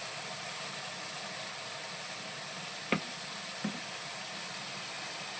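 Spices fry in oil in a pan while cooking Kashmiri aloo dum, making a quiet, continuous sizzle. Two brief knocks stand out partway through.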